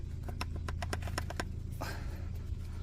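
A quick run of sharp metallic clunks and knocks from a loose front sway bar link on a Chrysler Pacifica or Caravan, about a dozen hits in the first second and a half, close by over a steady low hum.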